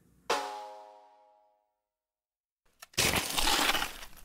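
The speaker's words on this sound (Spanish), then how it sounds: "La campana, en vez de emitir un dong, emitió un crack y comenzó a romperse" A bronze bell is struck and rings with a clear, decaying metallic tone, then after a pause cracks and breaks apart in a loud, harsh crash of shattering, with no talking.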